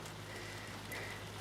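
Light rain pattering steadily on an outdoor surface during bright winter sunshine, a soft continuous patter with a faint steady hum beneath it.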